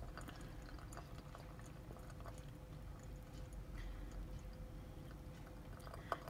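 Hot water poured over coffee grounds, a steady, gentle trickle of liquid pouring continuously, soft and close, with a faint hum underneath and a small clink near the end.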